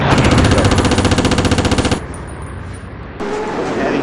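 Rapid machine gun fire in a World War II online shooter battle at Rostov, a dense rattling burst for about two seconds, then quieter gunfire and battle noise.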